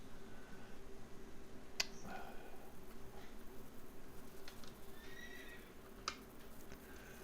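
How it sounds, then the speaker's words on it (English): A horse neighs in the fantasy MMO video game Quinfall, a short whinny heard against a quiet outdoor ambience with soft insect-like chirps, faint and at a distance, with one or two crisp clicks in between. "I want to try and get this horse while I'm here."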